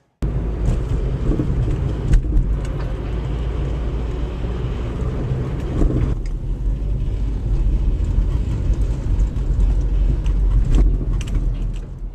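Steady interior rumble of a car on the move, a broad low engine and road drone holding constant for several seconds with a few brief bumps and clicks, no voices.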